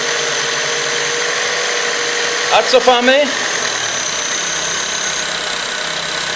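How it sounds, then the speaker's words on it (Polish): An Opel Corsa 1.4 engine idles steadily after an idle adjustment, a constant even hum with someone briefly speaking over it midway. "silnik pracuje stabilnie"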